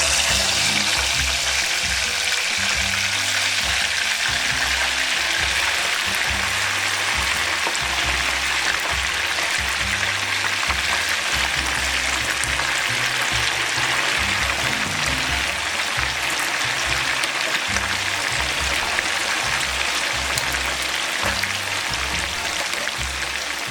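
Chicken wings deep-fry in oil at 350 degrees, a loud, continuous dense crackling sizzle that holds steady throughout with no talk.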